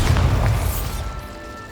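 A Bombarda spell detonating in Hogwarts Legacy: one heavy, close booming explosion that hits at once and rumbles away over a second and a half.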